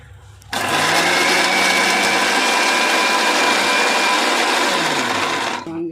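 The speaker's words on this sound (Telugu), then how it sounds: "వేసుకొని ఇది మిక్సీ పట్టుకోవాలండి" An electric mixie grinder whirs loudly as it grinds garlic with cumin and chili powder. It switches on abruptly, runs at a steady high-pitched drone for about five seconds, then winds down.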